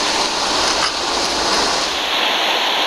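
Fast-flowing water in Coker Creek rushes in a steady, loud broadband roar with no break, close by, and no voices are heard.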